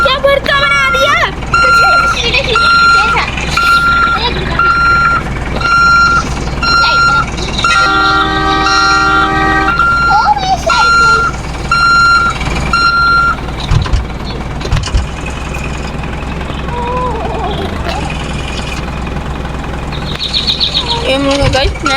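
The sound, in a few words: truck reversing with reversing beeps in the video game Roblox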